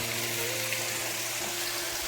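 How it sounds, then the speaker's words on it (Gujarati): A small waterfall with a low flow of water at Devmogra temple makes a steady, close, even rush of falling water, with no talk. "અહીંથી જે ઉપરથી પાણી પડતું છે ને તમને બતાવું"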